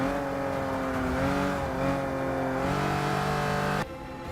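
Race car engine in a video game accelerating hard out of a corner, a loud, close, sustained rising whine with steady harmonics that cuts off abruptly near the end, no talking.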